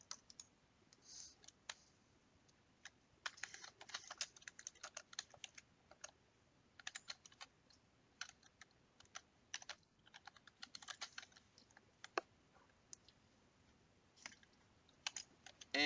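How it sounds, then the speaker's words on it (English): Quick bursts of clicky keystrokes on a computer keyboard come and go at an uneven pace, close and fairly quiet, as a name is typed into a business software screen; no speech. "To add in a new sales term, simply type the name of the new term in the empty row at the bottom."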